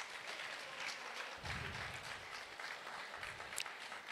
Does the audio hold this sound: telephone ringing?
no